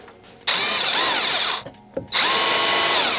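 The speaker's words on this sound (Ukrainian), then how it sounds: "спробуємо просверлити сталь заявлених 10 мм, сверлом 10 мм. Перша швидкість." A Vitals Master ARa 1618-2P cordless rotary hammer drills into 10 mm steel with a 10 mm bit on first speed, loud whining bursts that stop briefly, then restart close by.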